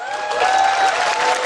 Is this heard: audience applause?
yes